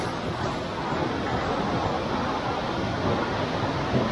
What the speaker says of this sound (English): enjoy the roar of the river over there